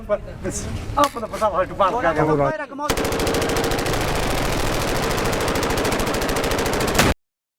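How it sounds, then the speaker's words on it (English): Rifle gunfire with many rounds shot in a sustained rapid burst. It sounds loud and continuous for several seconds before stopping abruptly, and a stretch of voices and noisy commotion comes before it. "At the minute they're firing lots of rounds, but don't seem to be shooting at anything."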